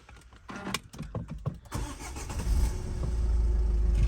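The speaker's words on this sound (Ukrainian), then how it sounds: "Зараз заведемо автомобіль." The 2.0 dCi diesel engine of a 2014 Renault Koleos cranks with a few sharp mechanical clicks, then catches and settles into a steady, loud idle rumble close by.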